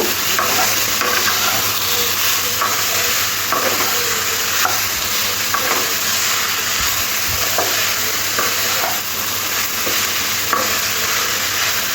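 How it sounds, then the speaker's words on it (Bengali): Phoron spices crackle and sizzle lightly in hot oil in a pan, a dense, continuous frying hiss with faint stirring scrapes, close and steady, with no voices. "ফোড়ন দিয়ে খুব সুন্দর একটা গন্ধ বার হলে দিয়ে দেবো এখানে ফোড় ফোঁড়টা এবার একটু হালকা করে ভেজে নেব"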